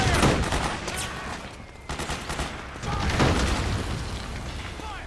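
Sustained gunfire and booming explosions fill a Metal Gear Solid 4 battle, dense and loud throughout, with soldiers shouting orders over the fusillade.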